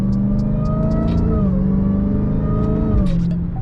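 A Dodge Hellcat engine revs hard through paddle-shifted gear changes. A loud, close, deep roar climbs, then drops briefly at each shift around the middle and near the end, with no talking.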